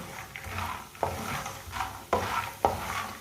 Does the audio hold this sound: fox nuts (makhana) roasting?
yes